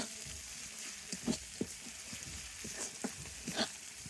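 Garlic paste sizzles softly in a hot pan, a faint steady frying hiss broken by light scraping and clicking stir sounds.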